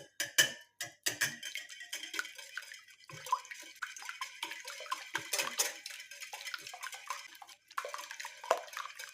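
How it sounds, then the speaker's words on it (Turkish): Three eggs are whisked in a deep bowl, with a rapid clatter of whisk against the bowl in irregular bursts separated by short pauses, close and fairly quiet. "Böyle güzelce bir çırpalım yumurtaları."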